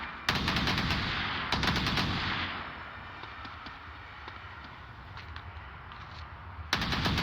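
Gunfire rattles through an online competitive league match in a video game. Short bursts of rapid automatic shots arrive at the start, a moment later and again near the end, over a steady bed of game noise.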